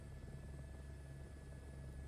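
A helicopter hovering in the video game Microsoft Flight Simulator, producing a steady rotor thrum with a constant whine, even and sustained throughout, with no voices.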